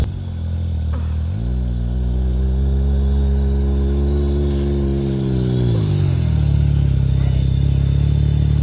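A snowmobile engine revs up hard in deep snow, climbing to a loud, steady droning pitch that holds for several seconds and then sags as the throttle eases.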